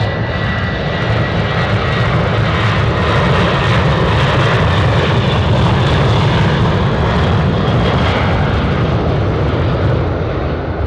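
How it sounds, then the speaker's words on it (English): KC-135 military tanker aircraft at Anchorage airport, a loud, steady roar of engines filling the whole stretch without letup, close and dominant with no talk. "And now a KC-135."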